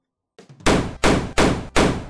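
Four loud, sharp gunshots fire in quick succession in a Unity 3D game as an enemy is shot, preceded by a brief faint rattle, each blast crisp and close with short decay.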